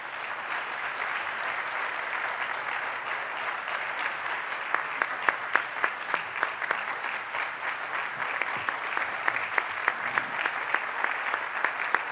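Sustained audience applause at an opening ceremony welcoming His Royal Highness at a Folklife Festival with a Bhutan program, a steady wash of many hands clapping with a few sharper individual claps standing out toward the end.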